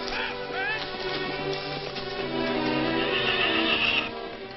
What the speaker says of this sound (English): Hurry up with them horses.